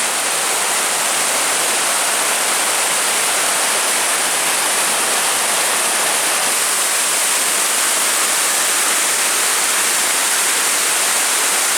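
A waterfall beside a bridge on a cliffside hike near Chapel Rock pours in a steady, loud, unbroken roar of white-noise rush that fills the whole stretch, with no voices.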